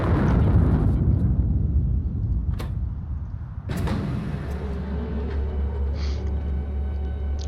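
A rocket launch animation in a factory-building video game roars heavily at first, then fades under sharp mechanical clunks and a lower sustained rumble, with no talking.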